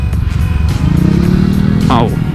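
A 2017 Honda Vario 125 eSP scooter rides through a housing-complex street, its engine a steady close drone running under the rider's continuous talk.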